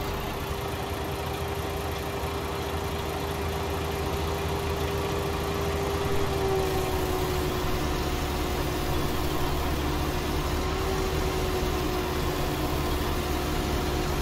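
Tractor engine in the Farming Simulator 19 game while driving off-road through a field: a steady mid-pitched engine drone with a faint whine, running continuously at moderate volume with no talking.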